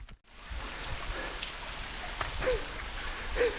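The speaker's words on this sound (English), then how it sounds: "rain's on again" Steady rain falling outdoors on a countryside walking trail near a bridge and hawthorn trees, a soft continuous hiss of drops, fairly faint, with a couple of brief high chirps poking through.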